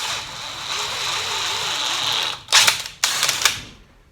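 A drill bores out battery lug ring terminals to 3/8 inch for a jumper cable adaptor on a Volvo ECR88 excavator, giving a steady whirring grind followed by two short, sharp bursts of cutting near the end.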